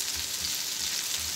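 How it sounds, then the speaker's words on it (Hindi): Bitter gourd slices (karela) coated in turmeric fry in a pan as they turn light golden, giving a steady close sizzle with soft bubbling pops and no voices. "इधर करेले भी फ्राई हो रहे हैं"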